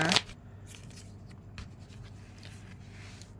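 Tarot love message cards being shuffled, a quick papery riffle at the start followed by faint soft card rustles and taps in a quiet room.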